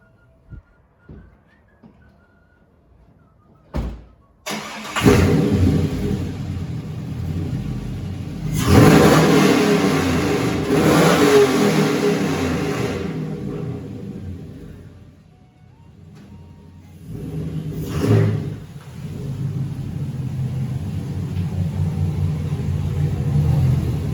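A loud Cadillac exhaust with Dynomax valved mufflers bursts into a deep rumble, swells with revving, dips, then surges again and settles into a steady throaty drone.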